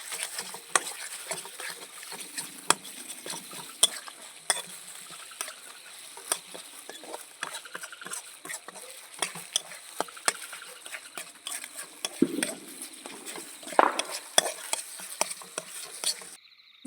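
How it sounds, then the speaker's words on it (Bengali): Salted potato curry stirred in a pan during night cooking at a campsite: repeated sharp scrapes and taps of a utensil over a soft sizzle, continuing for the whole stretch. "ভালো করে নেড়ে নেবো এবার।"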